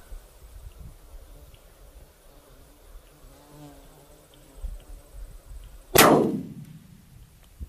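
A single 7mm SAUM rifle shot fired at a golf ball target 600 yards away outdoors, one sharp loud crack with a decaying tail after quiet ambience with faint insect buzzing.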